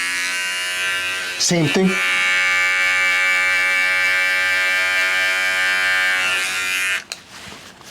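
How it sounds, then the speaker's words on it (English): Electric hair clippers buzz steadily at close range during a buzz cut with an ice pick taper, a bright, even hum that stops abruptly near the end, with a brief spoken remark early on. "go in with the same trimmer you went in with before and take out that bottom paint line"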